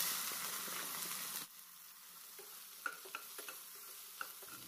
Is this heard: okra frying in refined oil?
yes